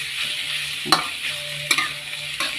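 Pork being stir-fried in a pan, with a steady sizzle broken by three sharp scraping strokes of the utensil, close up and without speech.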